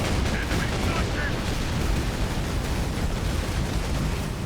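Autocannon fire in the Space Marine video game, a dense, continuous roar of rapid shots and explosions filling the whole stretch, loud and close with faint voice underneath.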